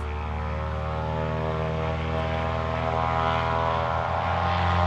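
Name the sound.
propeller airplane taking off at airport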